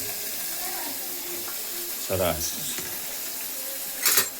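Asafoetida and onion sizzle in hot oil in a hotel kitchen, a soft, steady frying hiss that fills the background with a brief voice and a clink of a utensil.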